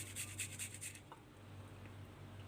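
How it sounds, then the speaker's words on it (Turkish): Garlic cloves rubbed on a grater for baked sea bream, about five quick rhythmic rasping strokes in the first second, close and fairly faint, then only quiet room hum. "Şimdi de sarımsağımı rendeliyorum."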